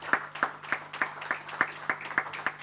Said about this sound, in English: I want to hear the claps.